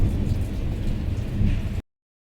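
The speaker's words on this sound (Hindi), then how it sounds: "देख सकते हो अब बारिश बहुत तेज़ हो रही है।" Heavy rain pours steadily with deep thunder rumbling underneath, loud and continuous until it cuts off abruptly near the end.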